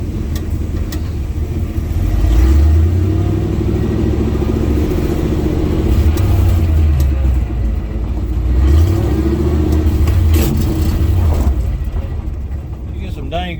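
A revived 1980 GMC C35 truck's engine rumbles steadily up close as it drives, with two rising pulls as it picks up speed.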